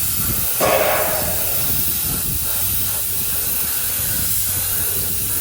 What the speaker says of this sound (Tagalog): Yung ginamit dito is spray.